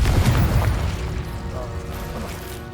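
A Confringo spell detonates in Hogwarts Legacy with a heavy, close boom at the start that rolls into a fading low rumble.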